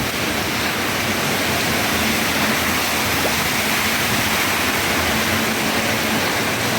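Heavy rain at night with rushing water makes a dense, steady roar with no breaks, close and loud throughout, and no one speaks.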